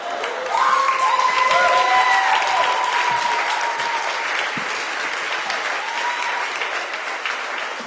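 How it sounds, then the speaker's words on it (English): Audience applause for a comedian at the close of a stand-up set, a dense sustained roar of clapping that swells quickly and holds steady, with a few cheers and whistles rising above it. "Give Mike a round of applause."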